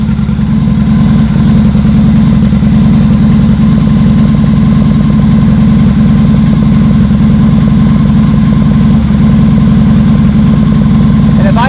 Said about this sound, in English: So this is kind of at fast idle.